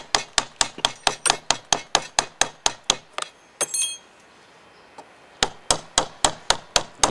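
Close, sharp mallet blows on a carving chisel cutting into wood come in a fast, even series, pause for a brief scrape and near-quiet, then resume in a steady rhythm.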